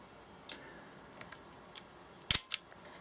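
A Nikon FE2 35mm film camera's advance lever being wound, heard as a few soft close clicks followed by two sharp, crisp mechanical ratchet snaps near the end, with no talking.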